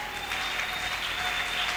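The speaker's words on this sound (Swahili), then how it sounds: "Est-ce que tu peux l'acclamer?" Applause from a church congregation during an evening prayer service, a dense, steady clapping of many hands throughout, with no voices standing out.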